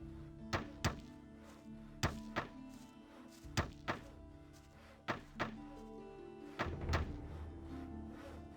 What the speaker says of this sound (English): now I can assemble my weapon